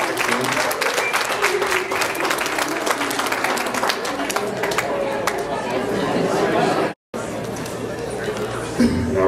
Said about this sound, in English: if we could have a bit of a round of applause for all the brave folks that came here today